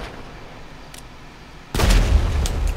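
Gunfire in the GTA video game bursts in abruptly partway through after a quiet stretch, a loud sustained volley of shots and booms that continues to the end.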